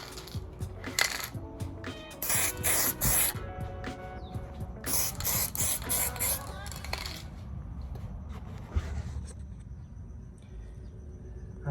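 Light coats of aerosol primer sprayed onto truck parts laid across a hood, heard as several loud hissing bursts separated by short pauses, with a metallic rattle from the can and the steady hiss fading toward the end.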